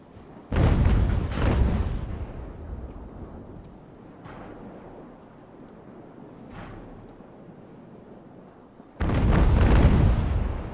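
Naval cannons fire during an age-of-sail ship battle in the strategy game Ultimate Admiral: Age of Sail: two heavy, booming broadsides open and close, with a few fainter distant shots rumbling between them.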